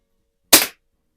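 A Hy Score model 819 (Diana 10) air pistol, freshly resealed, fires a single sharp, loud shot at a bullseye target, followed by silence.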